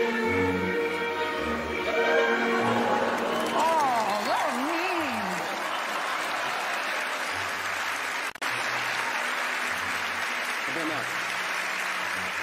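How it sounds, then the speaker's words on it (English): A TV studio audience on Penn & Teller: Fool Us applauds steadily throughout, its hiss sitting under gliding musical tones and a low rhythmic pulse. "Give Alyson a round of applause."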